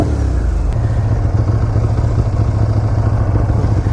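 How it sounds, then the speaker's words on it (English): A 2016 Motus MSTR V4 motorcycle engine revs hard and continuously at close range, a loud, rough, throbbing roar with a steady mechanical clatter beneath it. "Revving this bike, I mean, it twists the frame."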